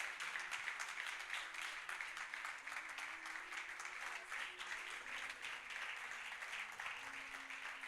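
Church congregation applauding together, a steady wash of many hands clapping at moderate distance, sustained evenly for several seconds without a break.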